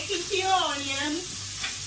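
Onions, tomatoes and asparagus are turned in a hot pan as steak is cooked, giving a close, steady sizzle with stirring scrapes and a brief voice over it.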